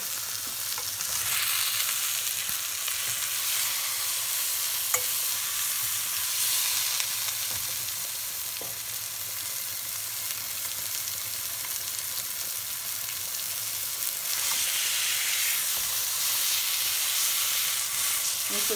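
A pork fillet sizzles steadily in a hot pan as it is rolled over on each side, a continuous close frying hiss with small crackles and pops and no voices.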